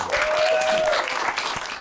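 Audience at a Ukrainian roast battle comedy show breaks into loud, continuous applause, a dense wash of clapping from a close crowd, with a brief tonal whistle over it.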